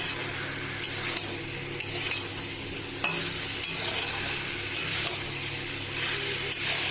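Boiled potatoes sizzle steadily in a pan of hot oil while a utensil stirs them, with scattered sharp scrapes and clicks against the pan. The frying is close and continuous and no one speaks.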